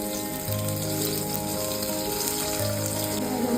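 Mustard seeds, onion and tomato sizzle in hot oil for a dal tadka, a steady, dense frying hiss with a low hum underneath throughout.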